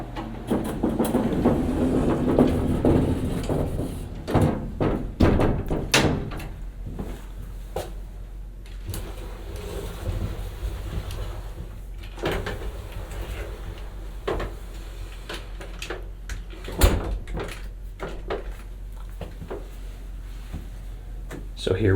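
Historic Otis traction freight elevator in St. Louis in operation, with heavy rumbling, scattered clanks and knocks from its doors and machinery, while a person talks at moderate distance over the mechanical noise.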